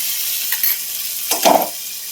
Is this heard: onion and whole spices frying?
yes